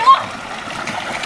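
A brief splash and slosh as a person is thrown into water, close and fairly loud, with voices mixed in.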